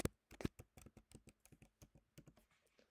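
A password is typed on a computer keyboard, a quick run of about twenty light key taps with a few heavier presses, close and quiet, alone without any voice.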